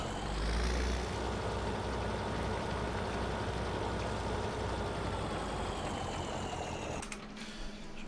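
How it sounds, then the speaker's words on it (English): A tractor engine in Farming Simulator 17 drones steadily and loudly with a low, rough rumble while driving, before cutting off sharply near the end. "Might as well take this tractor back for now."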